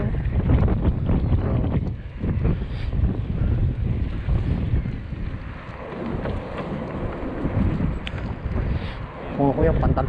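Strong gusting wind buffets the microphone during a bike ride by the Humber River in Toronto, in heavy, continuous roaring bursts, easing midway, with faint voices briefly audible near the end.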